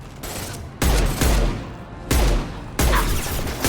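A hand cannon fires in the Mass Effect 2 Legendary Edition game, with four heavy, booming shots at uneven intervals over a continuous rumble of combat noise.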